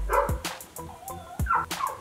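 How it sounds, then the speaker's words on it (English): Several dogs bark outdoors in quick, sharp bursts at a moderate distance, heard from indoors, with yips and short whines between the barks. "If you hear my dogs barking in the background,"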